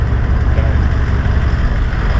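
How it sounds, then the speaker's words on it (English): A tractor engine near a beach runs with a steady low rumble, loud and continuous, mixed with wind noise and rough background roar. "Everyone literally has a tractor."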